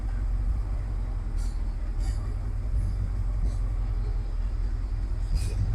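A 1969 Chevy C40 truck rolls into a garage, its engine a steady low rumble throughout with a few faint clicks and knocks over the drone.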